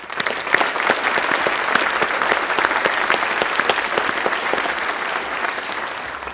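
Warm, sustained audience applause at an outdoor Veterans Day ceremony honoring service members in Walnut Creek, a dense crowd clapping steadily for several seconds without a break and fading slightly at the end.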